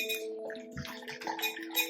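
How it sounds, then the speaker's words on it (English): Water poured over coffee grounds in a jar for cold brew, a close, steady trickling pour with a faint tonal ring, brief and continuous, no talking. "you're just going to pour it over the coffee grounds till they're thoroughly wet"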